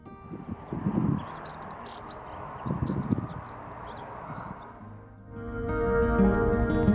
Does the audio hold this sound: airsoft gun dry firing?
no